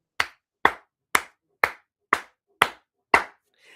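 Seven sharp, evenly spaced hand claps ring out loud and close, each one distinct with a short decay in the silence between.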